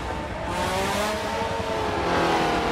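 Formula One race cars, including a Ferrari 641, rolling on a pace lap at Mugello in the Forza Motorsport video game, a loud continuous engine drone with gently rising pitch, no talk.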